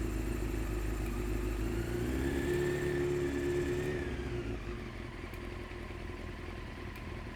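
A 1993 Honda CBR900RR sportbike engine idles steadily in a garage, a close, even rumble that drops slightly in pitch and level partway through, with no voices.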